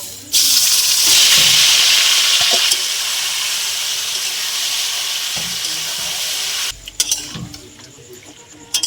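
Chicken dropped into hot oil in a kadai with cinnamon and dried chili bursts into a loud hissing sizzle that settles to a steady fry, then clatters briefly near the end as a lid goes on.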